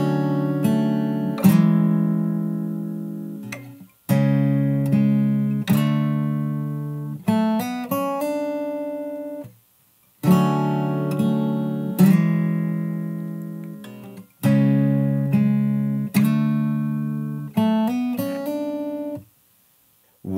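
A fingerstyle guitar plays the intro of a song, with plucked chord phrases repeating in a steady cycle and brief pauses between them, close and clear with no voices.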